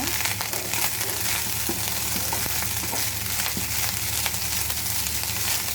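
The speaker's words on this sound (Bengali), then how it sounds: "এখন এখানে দিয়ে দিব লবণ। তা ভালোভাবে ভেজে নেব।" Leftover cooked rice frying with salt in a pan gives a steady, close sizzle with scattered stirring scrapes and clicks throughout, and no voices.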